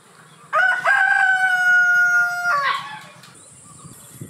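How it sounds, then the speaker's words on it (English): A rooster crows once, a single loud, clear cock-a-doodle-doo lasting about two seconds, close by, with faint farmyard background noise afterward. "What sound does a rooster make?"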